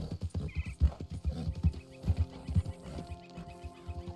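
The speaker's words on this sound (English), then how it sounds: "The horse just hadn't got going yet" Horse hooves clip-clop in a slow, uneven walking rhythm inside a video game, with soft repeated thuds at moderate volume set against a low game soundscape and no talking.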